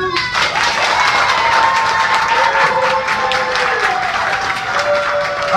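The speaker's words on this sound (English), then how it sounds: "All the applause you hear" A crowd applauds at a Pop Warner youth football event, with steady loud clapping and cheering alongside children's shouts.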